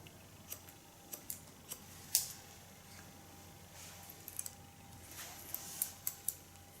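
Scissors snipping through hair during a haircut, a series of quiet, sharp cuts at irregular intervals, close by and faint, with no talk over them.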